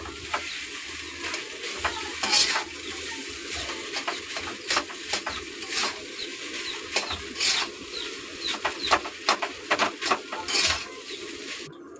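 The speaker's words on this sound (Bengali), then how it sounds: "এবার ভালো করে নেড়ে নেব। ভালো করে নাড়বো, নাড়ছি।" Boiled, drained Maggi noodles stirred in a pan: repeated quick scraping strokes in an uneven rhythm over a low background sizzle, close and moderately quiet.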